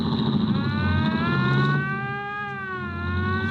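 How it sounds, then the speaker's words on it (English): A police car siren wails in a steady rising and falling tone, loud and close, with engine rumble beneath it. "Turn off that siren, huh?"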